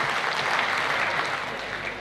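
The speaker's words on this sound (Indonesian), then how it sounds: "Kita beri tepuk tangan yang meriah untuk Pak Dwi Katmono." Steady, dense applause from an indoor audience at a community gathering, continuous and fairly loud across the whole stretch with no break.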